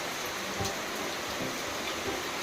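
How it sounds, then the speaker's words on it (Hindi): Heavy monsoon-style rain pours down in a steady, dense hiss with no gaps, fairly loud and enveloping, with no voices over it. "सो गाइस अभी बारिश देखो कितनी तेज हो रही है"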